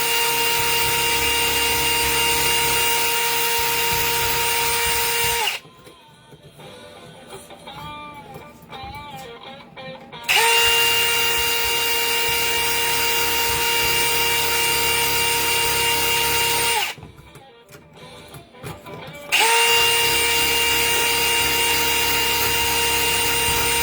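Hard steel wheel rolling across a brass lamp check ring, a loud steady grinding whine with bright ringing tones, running in three long passes broken by two brief quieter gaps.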